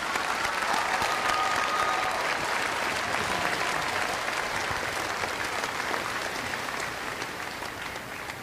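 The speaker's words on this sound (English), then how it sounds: "together we ask that you join us in applauding the graduates from the College of" A university commencement audience applauding graduates of the College of Humanities and Social Sciences, dense sustained clapping from a large crowd that fills the hall and slowly tapers toward the end.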